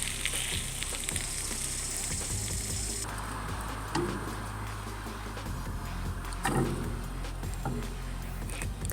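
Food sizzles and fries on a solar cooker in Sierra Leone, a steady, crackling hiss that runs throughout with faint stirring and scraping clicks mixed in.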